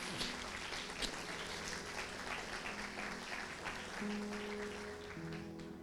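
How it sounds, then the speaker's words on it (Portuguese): Church congregation applauding during a worship celebration, a continuous wash of clapping with a sustained musical tone rising beneath it toward the end. "Se você crê nisso, aplauda ao Senhor."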